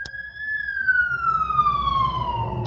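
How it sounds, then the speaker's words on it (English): A fire engine siren wails past in one long tone that slowly falls in pitch, steady and fairly loud over a low traffic rumble. "Oh, it's a fire engine."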